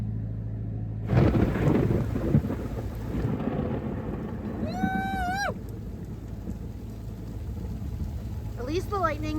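Thunder rumbles low and continuous through a storm aboard a wooden sailboat heading to Gloucester, with rain noise and a few bird-like chirps on top, and no talk in between.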